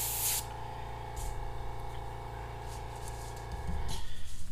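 Airbrush spraying paint through a skull stencil gives a steady, close airy hiss throughout, with a brief louder burst at the start and soft handling noises near the end.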